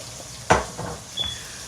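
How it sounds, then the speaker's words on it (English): Water poured into a hot pan of sausage and bacon drippings for gravy gives a sudden sharp sizzling burst, then two smaller hissing swells as it settles, fairly close and without talk. "I'm going to add just a little water to that."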